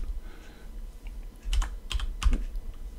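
Typing on a computer keyboard while setting up Windows, with a few sharp clustered key clicks standing out near the end over a quiet background.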